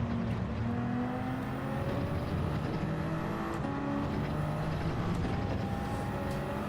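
A Toyota Supra race car engine roars at full throttle down a straight in Gran Turismo 7, a loud continuous drone with rising gear-change whines and other cars' engines layered close behind.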